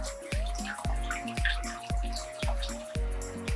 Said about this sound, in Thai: น้ำโซดา ใส่ไปสักหมดเนี่ยครับใส่ไปหมดเนี่ยครับโซดา